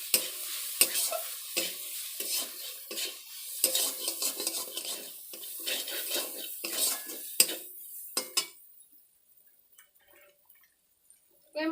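Prawn pakora batter with turmeric and chilli powder mixed by hand, rapid clattering spoon-against-bowl strokes in quick rhythm, close and busy, fading to near quiet at the end.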